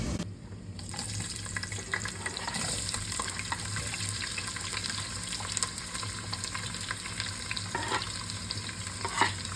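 Large chopped onions fry and get stirred in a biryani pot, a steady close sizzle with scraping stir strokes throughout, no voices.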